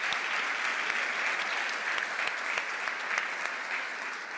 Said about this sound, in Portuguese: Uma salva de palmas para vocês que não são fiadores.